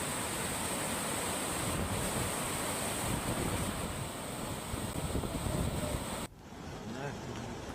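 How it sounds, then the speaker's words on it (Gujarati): Water rushes steadily from the Dhobipat waterfall at the foot of a mountain, a loud broadband roar with wind buffeting the microphone, cutting off abruptly near the end into a quieter wash. "પર્વત નીચે આવેલા ધોબીપાટનો ધોધ વહેતો થતા પર્યટકો ધોધનો આનંદ માણી રહ્યા છે।"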